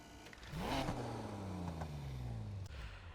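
Car engine fitted with a more aggressive exhaust in Need for Speed Heat, revving up sharply, then holding a loud, buzzy drone that slowly drops in pitch before cutting off.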